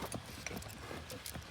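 A horse for ulak (goat-dragging game) clip-clops nearby in a quick run of hoof strikes, each crisp and close, with no talking.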